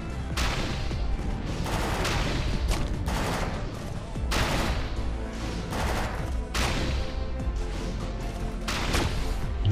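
Loud, dense video game combat with repeated explosive blasts from a rocket weapon fired near barrels, heavy bursts recurring roughly every second or two over continuous battle noise.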